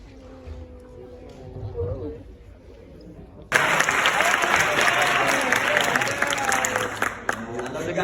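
Audience applause bursts in suddenly after quiet murmuring and voices, then continues loud and dense to the end, with some talk and cheering mixed through the crowd noise.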